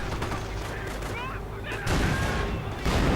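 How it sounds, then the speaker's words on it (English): Heavy gunfire and booming cannon shots from a StuG assault gun in a WWII strategy game, with dense overlapping battle noise and two louder blasts partway through. "Stu-42 firing into the midst of this."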